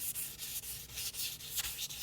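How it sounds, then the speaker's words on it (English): Sandpaper rubbing along the rough edges of a wooden youth bow in steady back-and-forth strokes, close and fairly quiet, with no voices. "Next, clean up the rough edges with sandpaper."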